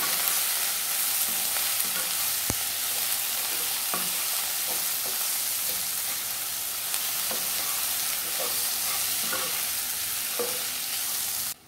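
Prawns frying with spice powder in a pan for a Mangalore-style prawn sukka, a steady close sizzle with occasional stirring scrapes throughout, no talking.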